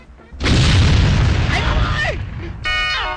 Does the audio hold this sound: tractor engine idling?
no